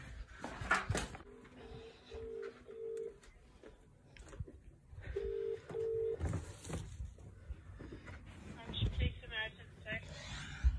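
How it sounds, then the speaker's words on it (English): Short electronic telephone keypad tones sound in two brief clusters while someone calls the police, mixed with close handling noise, rustling and a voice speaking. "so I'm ringing the police in the hopes that you can help me here"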